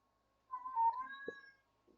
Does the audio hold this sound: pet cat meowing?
yes